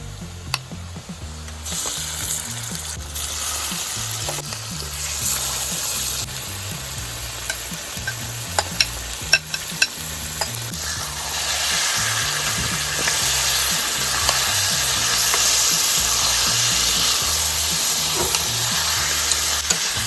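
Chicken pieces sizzle loudly in a hot pan of spice masala for Hyderabadi masala chicken, with a spoon scraping and stirring steadily and the frying hiss growing stronger toward the end.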